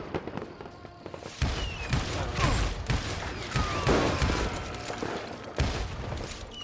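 Gunfire in the Western shooter Call of Juarez: Gunslinger, a dense run of sharp cracks and thumping shots layered over a busy game soundscape, with several stronger blasts standing out amid the continuous action.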